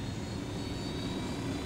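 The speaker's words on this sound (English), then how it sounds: "It's not this particular helicopter, but it's a small helicopter like this, and it has rockets on it." A small rocket-armed helicopter in the video game Ghost Recon Wildlands gives a steady, even engine and rotor hum that holds at moderate loudness with no talking.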